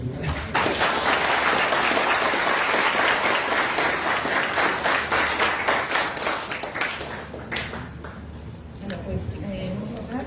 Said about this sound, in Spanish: un aplauso por la clase